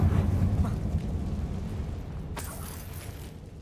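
Confringo fire spell blast in Hogwarts Legacy, a deep rumbling explosion that opens loud and slowly decays, with a sharp crackling burst near the end.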